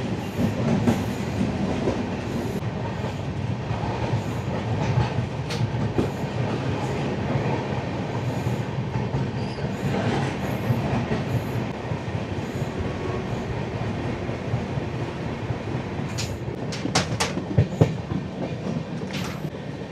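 The Paharia Express, an LHB passenger train between Howrah and NJP, runs at speed with a continuous rushing rumble. Wheel clatter repeats throughout, and sharp metallic clicks come near the end.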